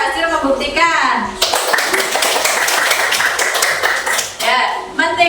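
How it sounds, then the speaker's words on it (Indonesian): A class of pupils clapping for a group, a brisk burst of many hands lasting about three seconds, with a teacher speaking before and after it. "Tepuk tangan untuk kelompok 1 sudah berhasil membuktikan."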